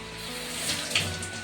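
Water pours into a mixer jar holding ground crab masala, a short steady trickling splash close up, with no talking.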